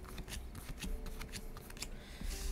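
A deck of playing cards for the board game For Northwood! shuffled nearby during a solo session, a soft, steady riffling rustle heard on its own.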